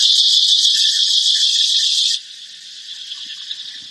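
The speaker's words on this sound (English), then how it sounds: "Well, the cicadas are screaming." Cicadas buzzing loudly outdoors, a dense high-pitched shrill drone that cuts off abruptly midway, leaving a fainter background chorus.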